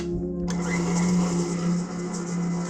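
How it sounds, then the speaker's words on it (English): A stand mixer turning with its paddle attachment while baking, a steady motor whir with a tonal hum that starts abruptly after a brief quiet moment and runs on at an even level. "So I'm putting my paddle attachment on now, maybe, if I can get it on, and we're just gonna mix"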